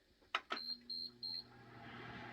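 A Lasko tower heater powering on gives two sharp clicks followed by three short, evenly spaced electronic beeps, then a low running hum settles in underneath, heard close with no talking.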